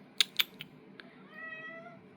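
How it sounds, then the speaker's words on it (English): A house cat meows up close: two sharp short chirps, then a longer drawn-out, wavering meow that trails off, with a quiet room behind it. "So let me get the cat."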